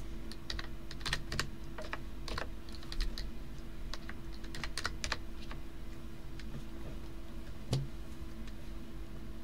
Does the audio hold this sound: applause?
no